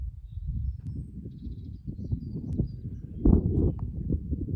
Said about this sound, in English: And a bird.